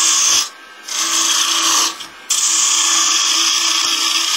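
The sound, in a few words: woodturning with a 1/4 inch gouge on a vase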